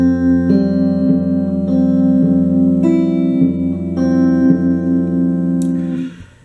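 Opening part of a song on guitar, picked on the sixth string alternating with the higher strings, ringing evenly at close range with sustained overlapping notes that fade out at the end.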